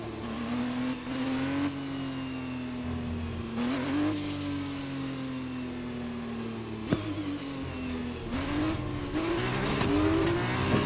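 A Formula 1 race car in the F1 2021 video game, qualifying at Barcelona, Spain: a steady high engine drone whose pitch rises and dips through corners and gear changes, with brief tire noise, heard from on board.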